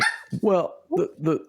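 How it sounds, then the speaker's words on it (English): A dog barks several times close by, short sharp yips in an uneven rhythm, with a voice speaking briefly at the start. "My dogs are barking."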